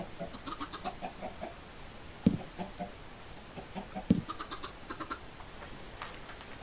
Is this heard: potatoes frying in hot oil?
no